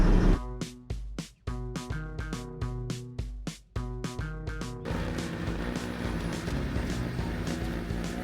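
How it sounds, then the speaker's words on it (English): A homemade snow blower engine pulses in a rhythmic, chugging pattern, then settles into a steady, loud roar as it throws snow, close by with no talking. "It can't be canceled, and now our blower works."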